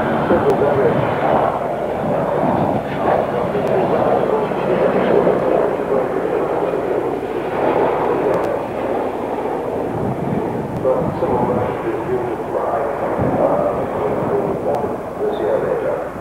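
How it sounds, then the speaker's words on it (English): A naval utility helicopter flies at the 1988 Farnborough Airshow, a broad steady roar with wind buffeting on the microphone, loud and continuous across the whole stretch. "It's a unique helicopter."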